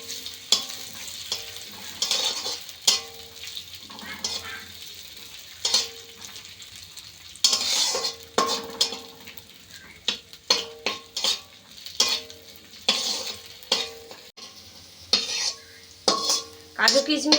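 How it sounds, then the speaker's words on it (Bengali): Cashews and raisins frying in hot ghee for a flattened-rice payesh, heard as a soft steady sizzle broken by frequent sharp clinks and scrapes of a spoon stirring against the pan, close and fairly quiet with no talking. "এখন কিছু কাজু কিশমিশ ভেজে নেব। একটু লাল লাল করে ভেজে নেব।"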